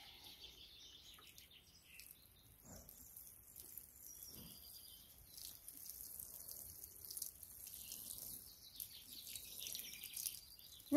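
Watering can sprinkling carrot, leek and onion seedlings in a greenhouse, a soft continuous patter of water spray, faint and close, with birds chirping in the background.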